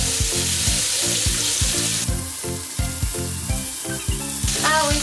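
Food sizzles loudly in a frying pan and is flipped partway through, a steady close hiss overlaid with rhythmic clatter and scraping of utensil on pan.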